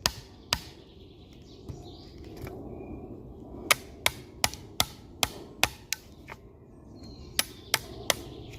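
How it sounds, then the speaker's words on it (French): Wood chisel driven into wood with a mallet while cutting a froissartage joint, a series of about a dozen sharp, crisp knocks, some spaced apart and others in quick regular runs, close and distinct over low background noise. "il faut quand même faire attention à ne pas enfoncer le ciseau à bois trop profondément dans le bois"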